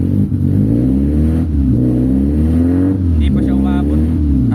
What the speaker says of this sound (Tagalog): pagka sinagat ko yung gas pedal